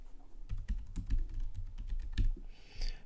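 Rapid, close-up clicking of a computer keyboard as someone enters a client ID while setting up a Bosch Rexroth ctrlX CORE as an MQTT broker; quick uneven bursts of keystrokes with no voices.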